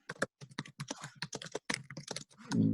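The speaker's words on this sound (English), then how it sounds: "Maybe somebody is not muted and is typing." Rapid, uneven clatter of keystrokes on a computer keyboard, picked up over an open microphone during an online conference session, loud and close with brief pauses between bursts.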